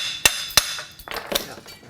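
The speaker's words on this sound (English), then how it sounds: "I think I just need to tap it so it seats down on the tab." Small brass hammer tapping a part on an automation table to seat it onto a tab, two sharp metallic taps followed by a quicker cluster of lighter taps and clinks, close and clear.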